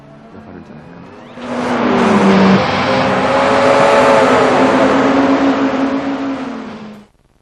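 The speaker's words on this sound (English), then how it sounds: "We managed to reproduce wind noise this time and road noise, the sound of the tyres moving across the road surface." A race car from Gran Turismo 3 rushes in with rising engine roar, wind noise and tyre road rumble, holding loud and steady before cutting off abruptly.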